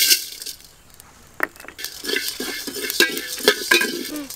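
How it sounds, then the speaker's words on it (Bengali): Whole cumin, coriander and fennel seeds dry-roast in a pot for mutton curry, with a quiet crackle and repeated dry scraping, rattling stirs of a spoon. "ভালো করে ভেজে নেব"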